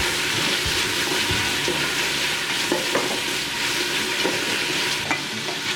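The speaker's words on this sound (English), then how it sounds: "Add some salt and mix well" Brenabon, a bean stew, being stirred with salt in a sizzling pan: steady hiss and frying crackle with scraping stirs, close and alone with no voices.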